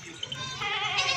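A goat offered for sale at a livestock market in Pakistan bleats once, a short wavering call rising over faint background noise, fairly close and without speech.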